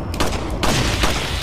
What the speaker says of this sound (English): I'll just put some handgun bullets into you.